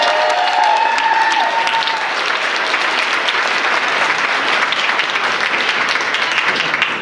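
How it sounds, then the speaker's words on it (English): An audience at the Monkees' Pop Hall of Fame induction claps loudly and steadily, dense applause filling the room for several seconds, with a few voices briefly audible at the start. "So let's hear it for Terry."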